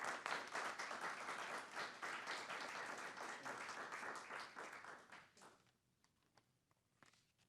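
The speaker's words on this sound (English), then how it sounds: "let's give ERIN a big round of applause" Audience at a school board meeting applauds a coach, a sustained round of clapping that fades away after about five seconds, leaving a few scattered claps and quiet room sound.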